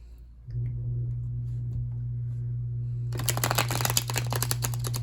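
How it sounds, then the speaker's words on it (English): Tarot cards are shuffled rapidly with a dense riffling flutter over a steady low hum, starting after a few seconds of near quiet. "Shuffle this a little bit more."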